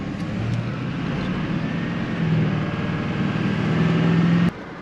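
A pickup truck engine held at a raised idle, then given a little gas so it revs up steadily and loudly close by, with a low droning rumble that climbs gradually and cuts off sharply near the end.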